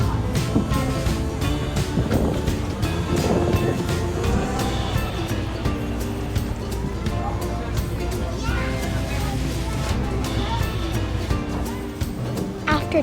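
Aboard a passenger ferry crossing the water between Alameda and San Francisco, a steady low engine rumble and water noise sit under busy chatter and children's voices nearby.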